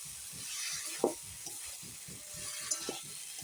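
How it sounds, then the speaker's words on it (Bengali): Small mourola fish tossed with spring onion stalks in a pan, quietly sizzling under soft rhythmic stirring strokes and a couple of sharper clinks of the spatula, close and low in level. "ভালো করে নেড়ে টেড়ে পেঁয়াজকলির সঙ্গে কষিয়ে নামাই দেবো"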